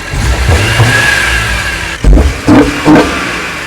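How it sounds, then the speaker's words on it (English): A BMW E46 M3 engine with an Eventuri intake idles loudly, then revs in three short bursts of throttle with an airy intake whoosh accompanying each rise. "you give it throttle, you rev it a little bit, you definitely hear the whoosh sound"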